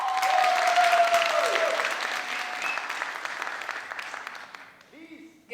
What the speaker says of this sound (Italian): il concorrente farà un passo in avanti e a quel punto voi attiverete il vostro applauso.